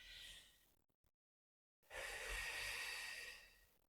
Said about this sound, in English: So we're going to breathe in